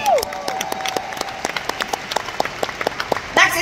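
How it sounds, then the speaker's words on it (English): Audience applause at a seminar, a smattering of distinct claps spaced through the moment, fairly light and moderately close, with a brief louder burst near the end. "Can we give Reweigh a round of applause today?"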